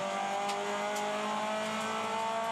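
A Toyota 86 race car pulls smoothly away from the start at Sandown without wheel spin, its engine droning loud and steady as it accelerates, with no talking.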